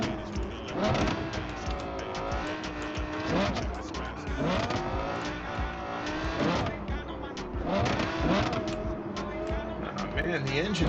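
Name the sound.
car engine driving in a video game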